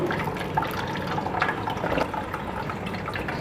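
Falsa juice is poured through a strainer basket, giving a continuous close, splashy trickle and patter of liquid that holds steady throughout with no voices.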